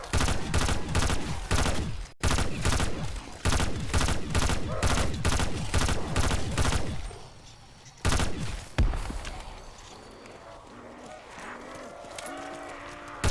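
Helvana gun firing in a shooter video game, a rapid series of loud, evenly spaced sharp shots with a brief pause, ending in a few further shots before fading to quieter ambience.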